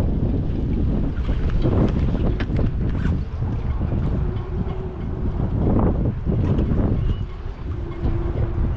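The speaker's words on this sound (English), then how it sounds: "It's really windy out here." Strong wind buffets the microphone outdoors on the water while fishing at Newport, Oregon: a loud, steady roaring rumble that surges and dips throughout, with a faint humming tone underneath and no talking.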